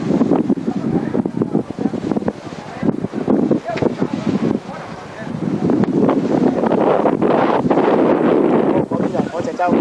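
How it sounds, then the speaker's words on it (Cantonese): Strong wind and rough waves at sea near Wang Chau island, heard from a boat: loud, continuous gusty buffeting over churning water, with voices faint beneath it. "哇，風浪好大啊！"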